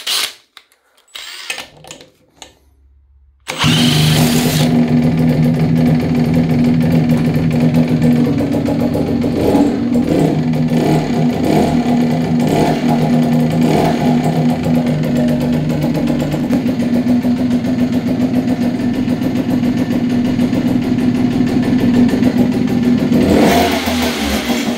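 A Puch Supermaxi three-speed moped's small two-stroke engine kicks into life after a few quiet clicks, then runs at a loud, steady buzzing idle with slight revs.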